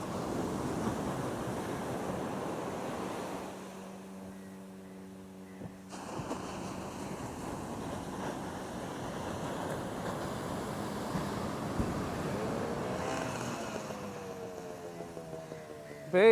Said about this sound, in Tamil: இப்போ வந்து கடல் வந்து பார்த்திங்கன்னா அதை அடித்து அடித்து அடித்து அடித்து கரைக்கு வந்து